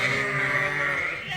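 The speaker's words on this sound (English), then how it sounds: "We need people to just come and pet the sheep." A sheep on a farm gives one sustained, loud, close bleat with a wavering, nasal tone that lasts the whole moment.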